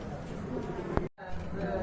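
Pigeons coo amid the steady murmur of a busy pigeon market in Bangladesh, with one brief sharper burst standing out near the middle, all under people talking.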